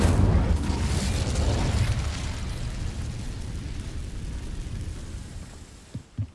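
A Hogwarts Legacy Incendio fire spell roars as a dense, loud whoosh of flame that slowly fades, ending with a couple of small pops.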